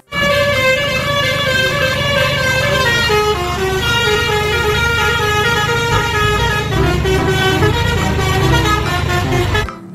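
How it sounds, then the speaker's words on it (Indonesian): A toy bus sounds its telolet horn in a long, loud, continuous melodic sequence of tooting notes that shift in pitch for nearly ten seconds before cutting off. "Di sini ada mobil bus telolet."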